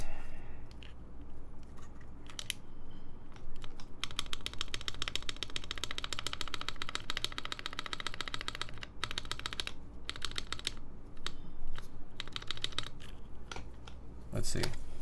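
Continuous rapid typing on a mechanical keyboard prototype, a dense close stream of clicky keystrokes with occasional heavier spacebar thumps and faint talk underneath.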